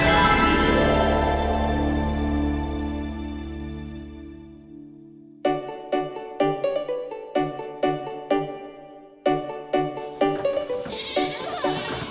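Goats in Tanzania bleating: one long drawn-out bleat, then a run of short, sharp repeated calls in quick succession, close and loud with no talking.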